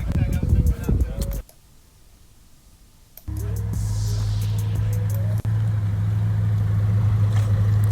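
Older Audi RS6 idling close by after a brief burst of other sound and a short quiet gap, a steady low engine rumble that holds evenly to the end.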